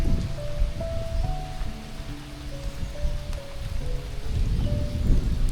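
Steady rain falls with a broad hiss, and a sustained musical tone wavers above it, continuous and moderately loud.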